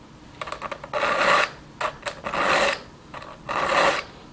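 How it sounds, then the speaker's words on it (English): A hand file rasps across a chainsaw tooth in three firm strokes, with lighter scraping strokes between them. The sound is close and the rhythm is steady, with no talk. "the practice, the understanding of sharpening a chainsaw tooth"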